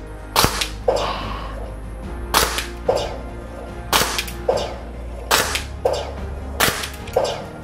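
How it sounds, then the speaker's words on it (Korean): A VFC VP9 airsoft gas pistol fires five sharp, cracking shots at an even pace about a second and a half apart, each a loud snap with a short mechanical clack following, heard alone with no talking. "사격해 보겠습니다. 5발 먼저 쏴 보겠습니다."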